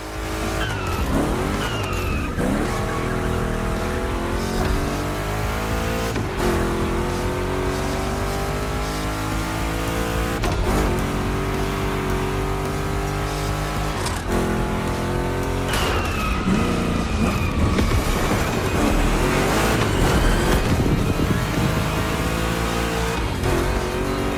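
Two big-block Chevrolet cars race in The Crew Motorfest, a loud, continuous engine roar that rises and falls through gear changes, with tire squeal and skidding through tricky turns and no talking over it.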